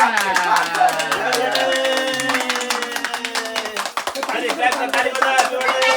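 People at a birthday celebration clapping their hands, a quick irregular patter of claps running throughout, with voices talking or singing over it.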